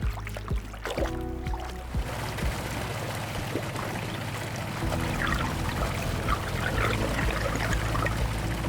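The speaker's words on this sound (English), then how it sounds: "our pump truck can extract the water, leaving only the solid residues behind" Pump truck on a Chicago catch basin cleaning job extracting soapy, greasy water, with a steady engine drone at first and then a loud rushing, gurgling flow of water under suction that carries on to the end, no speech.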